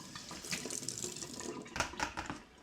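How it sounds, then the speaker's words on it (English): Cold tap water runs steadily over a plastic homebrew bucket lid during rinsing, a continuous close splashing wash with brief stronger splashes near the end, no talking. "the first thing I do is I rinse my bucket lid off normally."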